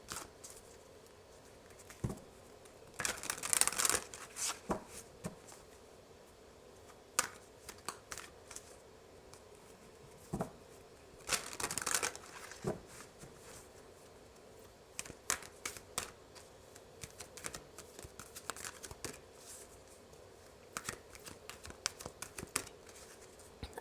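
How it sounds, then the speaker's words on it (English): Cards are shuffled in quick riffling bursts, crisp flutters repeating every few seconds with soft handling sounds between, close and fairly quiet. "I'll shuffle this one up good."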